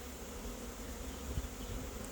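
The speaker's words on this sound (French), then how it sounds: "Cette fois, toutes les abeilles sont sur la ruche." Honeybees from a newly hived swarm in an apiary drone steadily around the hive, a continuous low hum close to the microphone with one brief louder pass near the middle.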